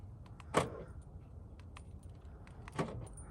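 Mk5 Jetta door locks actuating from the key remote, two short sharp clunks about two seconds apart over a quiet background.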